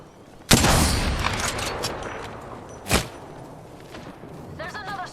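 Gunfire in the Apex Legends battle royale shooter: a loud burst of automatic shots erupts and rattles on for a couple of seconds, followed by a single sharp shot and quieter game effects trailing off.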